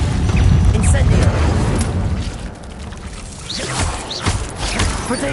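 An Incendio fire spell bursts in Hogwarts Legacy, a loud rumbling whoosh with crackling, booming low end that surges at the start, dips, then flares again amid game combat noise.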